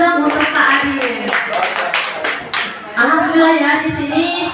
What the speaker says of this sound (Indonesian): Kita berikan tepuk tangan dong untuk Pak Adil